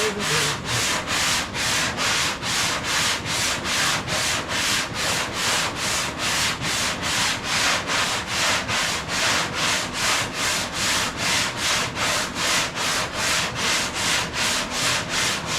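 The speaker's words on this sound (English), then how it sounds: "I gotta sand this and bring it across" Sandpaper rubs back and forth over a hood being built, in rapid, even strokes of roughly two per second that continue steadily, close and loud.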